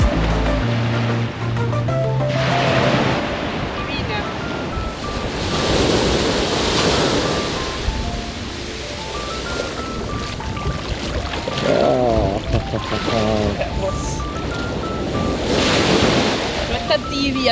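Surf breaking and washing onto the beach at Fortaleza, Brazil, a steady, loud roar of rolling waves with wind buffeting the microphone throughout.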